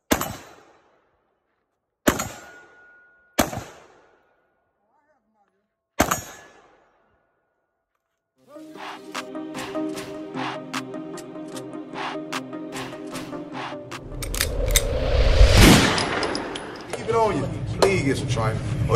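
Gunfire at an outdoor shooting range in Georgia: four sharp, loud single shots spaced apart, then a long stretch of rapid continuous firing with overlapping reports building to a dense burst near the end.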